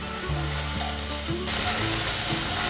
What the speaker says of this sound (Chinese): 让马铃薯慢慢的煎